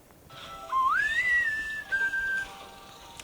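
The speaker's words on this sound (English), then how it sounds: "So I was just whistling around" A single person whistles a short melodic phrase, sliding up and holding a clear note, close and alone against faint background hiss.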